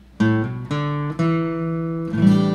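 Acoustic guitar plays a short phrase from a song: four plucked notes and chords ringing in a slow rhythm, close and clear, with no voice.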